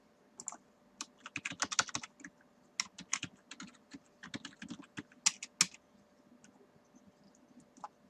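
Quiet typing on a computer keyboard, irregular bursts of close, soft key clicks with brief pauses, on a login screen, with no talk.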